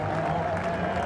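Spectators applauding and cheering from a rallycross grandstand, a dense, steady wash of clapping over a brief moment.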